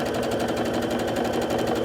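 A sewing machine stitches table runner strips at a steady, fast mechanical rhythm, close and continuous throughout with no talking.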